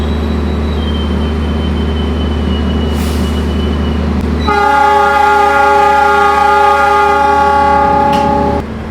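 The Argo Muria train pulls out of Gambir station in Jakarta: a loud, steady diesel engine rumble that swells into a long, sustained multi-tone horn blast lasting several seconds, close by.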